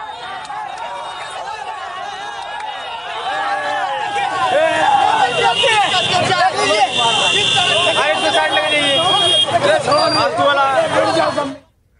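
Crowd of onlookers gathered around a parking dispute and scuffle between police and an e-rickshaw driver on a street in Bhagalpur, Bihar: loud, continuous babble of many voices with traffic noise and horns, building after a few seconds and cutting off abruptly near the end.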